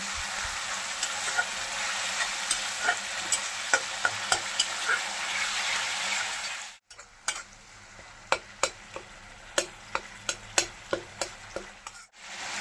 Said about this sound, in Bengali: ভালো করে নাড়িয়ে চাড়িয়ে কষিয়ে নেব।